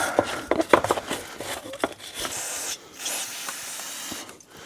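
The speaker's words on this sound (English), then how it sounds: "Carb cleaner is usually for the inside of the carb." Carb cleaner sprays from an aerosol can during side-by-side repair work, coming as several short hissing bursts with clicks and scuffs between them, then a longer, softer hiss near the end.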